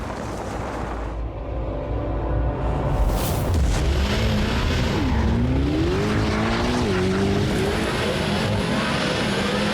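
Sports cars, including a Corvette ZR1X and a Lucid EV, launch hard from a standstill, engines roaring and revving up through rising pitch sweeps, loud and close, with a sharp burst of noise as they take off.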